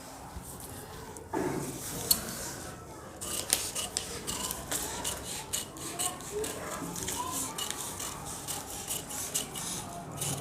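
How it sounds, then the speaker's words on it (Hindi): Scissors snip through blouse fabric for a princess-cut blouse, a close run of soft crisp cuts and rustles that starts after a brief pause and continues steadily, with someone talking intermittently over it. "मैं इस पे कपड़ा पे इसको कटिंग करके निकाल लेते हैं पहले"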